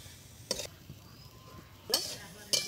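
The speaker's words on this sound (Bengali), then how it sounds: "এই যে আমি গুড় নারকেলের মধ্যে একটু লাড়া দিয়ে নিতেছে আমার মা" Grated coconut with jaggery and bay leaf is stirred in a frying pan over a faint sizzle, with three short, close scraping strokes against the pan.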